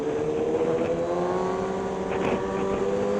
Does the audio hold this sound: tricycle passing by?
yes